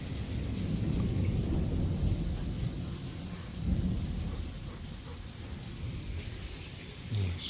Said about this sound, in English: It's a crazy, crazy storm.